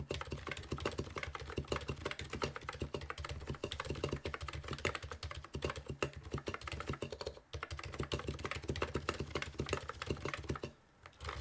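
Rapid, continuous typing on a custom Leila mechanical keyboard at a flat zero-degree angle, with dense, even clacks close up and one brief pause near the end.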